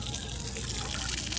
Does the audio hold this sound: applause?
no